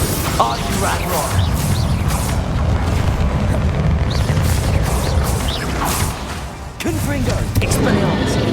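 Booming spell explosions from the Confringo fire spell in the Hogwarts Legacy game during a fight, loud, dense crashes and whooshes over a continuous rumble, with a sharp burst near the end.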